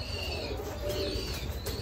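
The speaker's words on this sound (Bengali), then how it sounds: "কিন্তু কবুতর পাখি জোড়া খুবই ভালো।" Racing pigeons cooing in a backyard loft, soft low repeated coos close by over a steady hum, with faint chirps from other birds.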